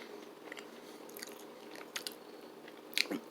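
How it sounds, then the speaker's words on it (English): Someone bites and chews a dry, crunchy Nature Valley almond butter granola cup up close. Soft crunches and chewing sit over a quiet hiss, with a sharper crunch near the end. "The cookie's very dry, very crunchy"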